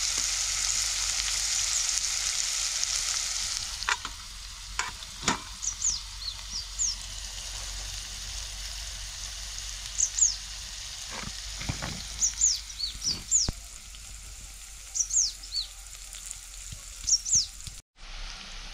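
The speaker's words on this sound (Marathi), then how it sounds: "कांदा चांगला परतून घ्यायचा." Chopped onions sautéing in a hot pan, a steady broad sizzle throughout with scattered clinks and scrapes of a spoon stirring, plus faint chirpy bird calls in the background.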